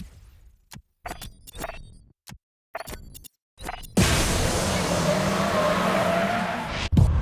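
Race cars drifting in the GRID Legends video game: short engine bursts come and go, then a long loud hiss of squealing, skidding tires holds for about three seconds before a final burst.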